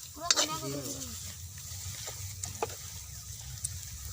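Turmeric and ginger sizzle in a hot pan, a soft steady frying hiss with a few faint taps, and a voice briefly speaks near the start.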